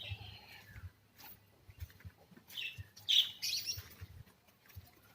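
Pet lovebirds chirp in short, high bursts, with several quick tweets close by against a quiet background.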